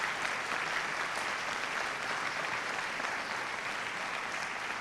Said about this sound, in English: give a round of applause to all your supporters, all your parents, your friends who are here today